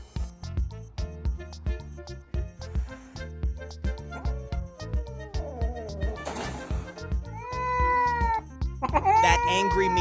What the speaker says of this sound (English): That angry meow sounds like a full speech.